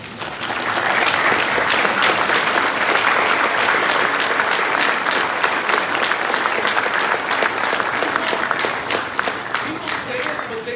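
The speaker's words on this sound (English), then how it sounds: "Clap for them" A crowd of parents, spouses, grandparents and siblings at a US Air Force ROTC commissioning ceremony gets a loud, sustained round of applause, dense clapping running steadily for nearly the whole span.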